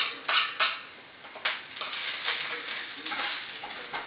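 Garlic sizzling in a frying pan on a home stove, with a soft steady crackle and occasional sharp clinks of a utensil scraping the pan, no talking.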